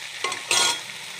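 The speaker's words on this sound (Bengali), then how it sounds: "এবার ছোলাটা দিয়ে একটু ভাজছি" Kabuli chickpeas frying and being stirred in a pan give two short bursts of sizzling and scraping, the second louder and longer, over a quiet kitchen background.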